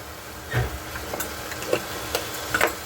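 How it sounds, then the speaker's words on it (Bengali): A spice mix with a little chili powder sizzles softly in oil while being stirred, with scattered spoon scrapes and clicks over a low frying hiss. "এবার ভালো করে এটাকে কষাতে হবে, ভাজতে ভাজতে তেল ছেড়ে গেলে তবে গিয়ে।"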